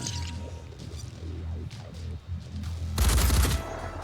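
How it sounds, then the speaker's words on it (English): Automated turrets open fire in the turn-based strategy game Phoenix Point, a run of sharp gunshot bursts amid game effects that swells into a loud, dense volley near the end. "Now there go the turrets."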